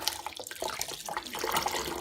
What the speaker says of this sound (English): Rinse the soap out of her hair.